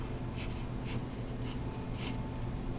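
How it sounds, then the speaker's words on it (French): A pen scratches out a triangular prism by hand in short, close, rhythmic strokes, about five distinct scribbles over a low steady background hum. "je vais dessiner ça comme ça"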